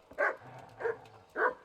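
A dog in the medieval RPG Kingdom Come Deliverance barks three times at an even pace, each bark sharp and fairly close, with no talk over it.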